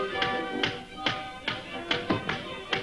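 Knuckles rap on a wooden door in a 1930s interior, a series of about eight distinct, evenly spaced knocks, fairly close and clear with no talking.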